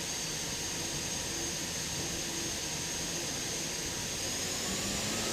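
Offshore powerboats with 5,000 horsepower turbine engines revving at a race start, a steady, distant jet-like roar and hiss that holds evenly throughout.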